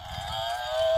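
A pink female buffalo toy gives a sustained lowing moo that slides gently upward, loud and near, sounding alone.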